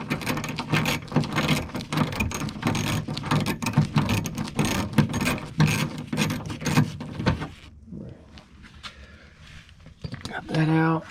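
A ratchet with a 10 mm socket loosening a bolt inside a 2011 Subaru Legacy car door, rapid clicking pawl strokes repeating for several seconds, then a pause and a short final burst, with someone talking over it.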